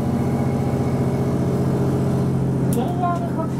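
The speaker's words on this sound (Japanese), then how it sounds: "発電して電車のようにモーターで走る電気式機動車なのですね。" JR Hokkaido electric-drive diesel railcar, a two-car train that generates power and runs on motors, pulling out of Otaru Station with a steady low engine drone and rising motor hum, heard from inside the carriage.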